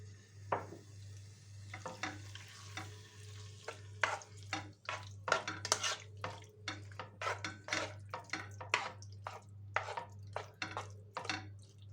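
Chicken fillet sizzles in hot olive oil as a faint steady hiss under a run of sharp clacks and scrapes from utensils stirring in the pot.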